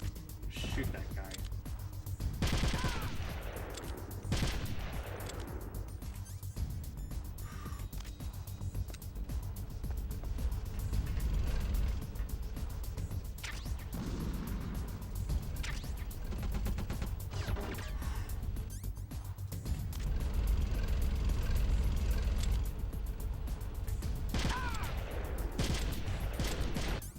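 Gunfire rattles through Metal Gear Solid: The Twin Snakes on Hard mode in repeated bursts of shots and crashes over game ambience, while a player talks throughout.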